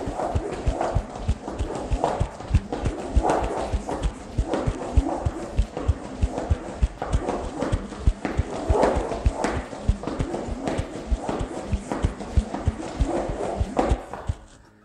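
Rhythmic thudding footfalls from someone jogging in homemade VR shoes, a steady quick beat of close, fairly loud impacts continuing for the whole stretch with no talk.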